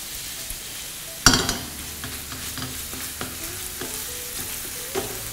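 Minced beef with miso being stir-fried in a pan, a soft steady sizzle with a sharp utensil clatter near the start and a series of light scraping taps from stirring, close and alone.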